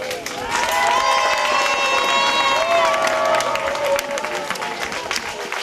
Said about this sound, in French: On applaudit le premier.